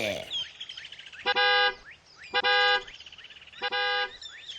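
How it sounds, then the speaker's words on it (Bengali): A car horn honks three times in sustained, loud blasts with gaps between them, while a shrill, chirping electronic or bird-like tone sounds in the pauses. "horn বাজাইয়ে driver G"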